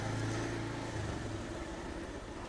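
Steady mid-pitched engine drone of a Bajaj Pulsar 150 motorcycle ridden through town, loud and continuous with a low hum throughout, no talk.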